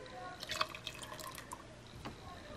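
Vinegar mixed with a little lemon juice poured into hot milk to curdle it for homemade cheese, giving soft, quiet drips and trickles of liquid with a few small splashes close by.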